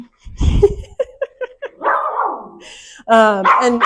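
A dog barks and yips insistently up close, a series of short sharp barks followed by a drawn-out whiny bark and more loud barking.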